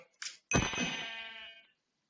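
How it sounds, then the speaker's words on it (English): A single sheep bleat, a wavering tone lasting about a second, from a blue sheep in Hungry World, a Minecraft-style Web3 video game. A brief soft click comes just before it, and the game is otherwise quiet. "That was an elusive mythical blue sheep"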